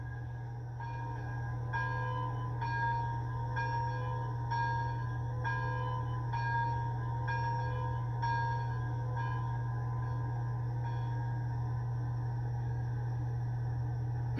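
Model steam locomotive bell from a WowSound DCC sound decoder, ringing in a steady rhythmic clang about once every half second over a constant low motor hum, with no voices.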